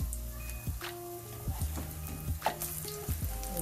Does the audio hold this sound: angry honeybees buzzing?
no